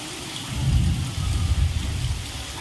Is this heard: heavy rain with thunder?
yes